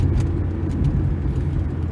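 A 1979 Honda Accord 1.6 five-speed pulls under acceleration, its engine giving a steady low rumble and drone heard from inside the car, continuous and fairly loud throughout with no talk.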